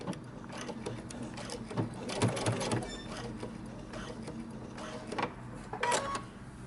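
A sewing machine back stitching around the placket of a men's knit top, its motor running in short close bursts with mechanical clatter and no talking.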